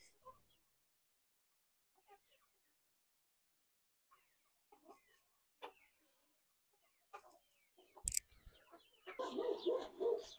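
Chickens on a farm cluck in scattered short bursts, faint at first, then a louder clatter and a busier flurry of clucking near the end.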